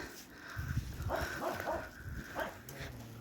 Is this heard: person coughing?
no